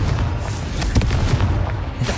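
A Confringo blasting curse explodes in the Hogwarts Legacy video game, giving a loud, dense burst of booming impacts with several sharp blasts over a constant rumbling low end.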